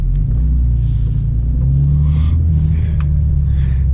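A 2025 BMW M2 in Sport mode pulls away, its engine a loud, steady low rumble with rising harmonic tones as it accelerates, heard from inside the car with no talking.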